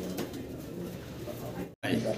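Racing pigeons coo in repeated soft, throaty calls close by, overlapping in a busy chorus with a brief cutoff near the end.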